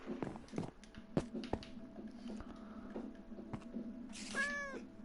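A white cat in Minecraft gives a short meow near the end, following scattered clicks and game noises, with no talking.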